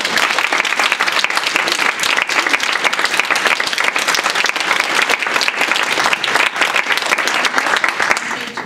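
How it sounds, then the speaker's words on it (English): Enthusiastic audience applause for students at a closing ceremony, loud and continuous with dense crackling claps throughout, no voices over it. "So please, a round of applause for the students."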